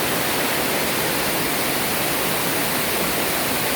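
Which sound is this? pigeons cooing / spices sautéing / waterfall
waterfall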